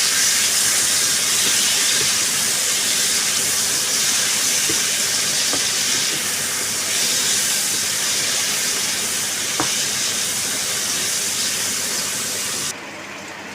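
Pork belly fries in a home-cooking pan for a sweet potato noodle dinner, giving a loud, steady, unbroken sizzle and hiss with a few faint clicks and no voices.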